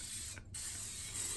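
Butter-flavored cooking spray hisses into a cake pan in a steady, continuous spray, briefly cut off for a split second, then resuming; close and fairly quiet, with no voices.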